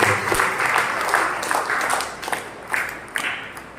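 A church congregation applauds the priest, Rev. Fr. Kommareddy Raphael Reddy, after his sermon at a novena Holy Mass, giving steady, moderately loud clapping from a crowd with some voices mixed in.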